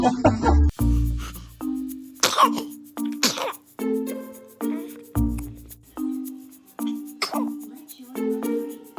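A baby sneezes a few times, short sharp bursts scattered among repeated adult voices talking nearby in an indoor home setting.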